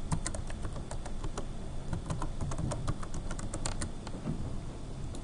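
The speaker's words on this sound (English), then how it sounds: "We type in the username and password" Rapid clicking keystrokes on a computer keyboard sound close and fairly quiet, coming in irregular bursts as a username and password are entered, with no voices.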